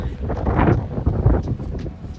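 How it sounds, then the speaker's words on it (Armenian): Light wind buffets the microphone outdoors in a Yerevan park after a few drops of rain, a steady rough rumble with no talking. "Մի քիչ քամի է"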